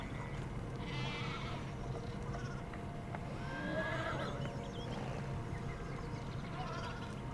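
Horse in the video game Pentiment neighing and whinnying several times over a low, busy farmyard ambience, with occasional hoof clops and faint animal bleats in the background.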